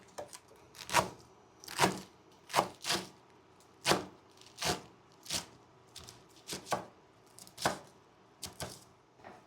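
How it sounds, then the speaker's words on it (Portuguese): A knife chops folded chard leaves into thin strips on a board, giving about a dozen crisp, close thuds at an uneven, unhurried pace with short gaps between them. "Podemos dobrar e cortar em tirinhas"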